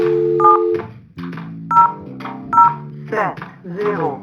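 Short paired DTMF dialing tones from an Asterisk IP phone blip several times at irregular intervals while someone talks over them.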